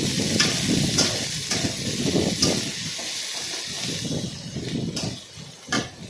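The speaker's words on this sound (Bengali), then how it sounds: "গ্যাসের ফ্লেমটা মিডিয়ামে রেখে পেঁয়াজগুলো ভালো করে নাড়াচাড়া করে একটু লাল লাল করতে হবে।" Chopped onions frying in a pan over a medium gas flame make a continuous hissing sizzle, broken by several brief sharp clicks and stirring scrapes nearby.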